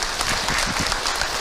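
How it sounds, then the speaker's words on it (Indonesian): Audience applause for a speaker at an Islamic talk, dense steady clapping filling the whole moment, loud and close with no voices over it. "tepuk tangan untuk Kak Hilman"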